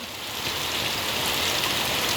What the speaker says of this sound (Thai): ฝนตกเลยพี่น้องเอ้ยชวนทุลงทุเรียนฝนตกเลยเด้อฝนตกอีกแล้ว